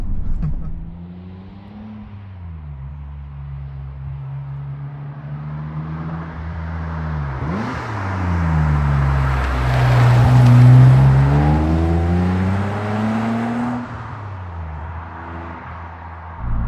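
A BMW 850 CSi V12 engine heard from inside while driving in comfort mode: a smooth low hum that rises and falls with gear changes, swelling into a stronger acceleration mid-way before settling back to a steady cruise.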